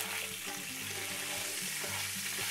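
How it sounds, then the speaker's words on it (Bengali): Shrimp frying in hot oil, a steady dense sizzle filling the clip with occasional soft stirring knocks and a low tonal hum underneath, close and continuous with no voices. "চিংড়িগুলোকে ভেজে নিচ্ছি।"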